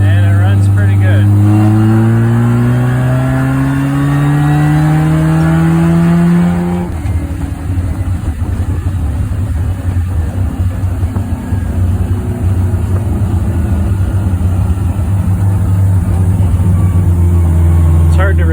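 Mazda 13b rotary engine car fitted with Fitech fuel injection pulling away from a stop sign, engine note rising steadily through the gears, loud and close from inside the cabin, with a brief shift partway through.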